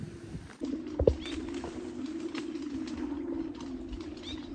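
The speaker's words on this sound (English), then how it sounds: "There are literally hundreds and hundreds of these birds, and they make this hoo noise all day long." Soft hoo-like cooing of hundreds of pigeons or doves in the distance on a tropical island, over a steady low outdoor hum, faint and continuous with no speech.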